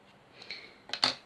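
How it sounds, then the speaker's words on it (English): Scissors snip through crochet yarn in one or two short, crisp close cuts after a faint rustle, with no voices. "finding your scissors, you're going to cut the yarn"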